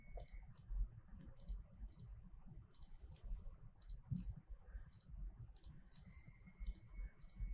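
Computer mouse clicking repeatedly to select items, a series of faint, crisp, closely spaced clicks in small clusters over a low background hum, fairly regular in rhythm.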